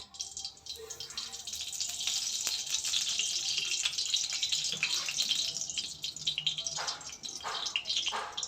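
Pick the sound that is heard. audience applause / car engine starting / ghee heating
ghee heating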